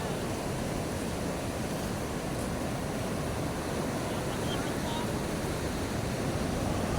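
Large ocean waves surging as boats try to cross them, a broad continuous roar of surf mixed with wind buffeting the microphone, steady and fairly loud throughout with no clear voices.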